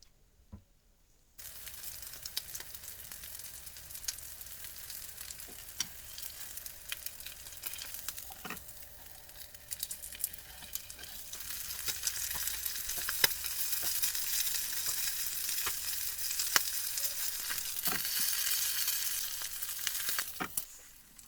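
An escalope sizzles steadily in a pan of oil and butter, a close, continuous frying crackle that starts abruptly and grows slightly louder, with scattered pops and spits throughout.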